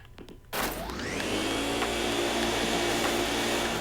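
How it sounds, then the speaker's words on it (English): Poltergust 3000 vacuum from the Luigi's Mansion video game starts up with a sudden whoosh after a brief quiet moment, then holds a loud, steady, rushing suction roar with no talking. "the Poltergust 3000 Suku. It can suck up all kinds of things."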